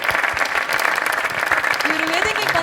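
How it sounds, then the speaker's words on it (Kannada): Loud audience applause at a singing competition stage show during a family round, with dense, continuous clapping throughout and a voice briefly rising over it near the end. "ಜೋರಾದ ಚಪ್ಪಾಳೆ."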